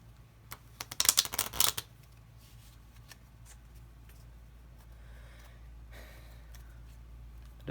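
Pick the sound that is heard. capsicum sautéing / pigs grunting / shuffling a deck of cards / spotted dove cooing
shuffling a deck of cards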